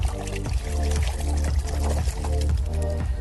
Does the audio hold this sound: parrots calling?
no